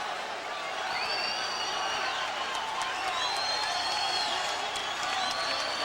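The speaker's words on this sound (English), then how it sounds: "the crowd starting to rise to its feet in the final seconds" A boxing arena crowd roars steadily in the closing seconds of a twelve-round fight between James Toney and Mike McCallum, with whistles and cheering rising above the din, heard over an announcer's talk.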